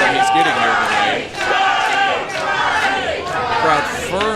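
Wrestling crowd at a live pro wrestling show in Wheeling cheering and yelling for Johnny Vortex, a loud, dense wall of shouts and chants with rising and falling bursts throughout.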